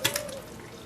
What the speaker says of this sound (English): we're just siphoning a little bit of root beer back into the pot